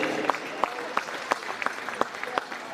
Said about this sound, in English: Ladies and gentlemen, nice round of applause for your parents' night here at Ripon High School.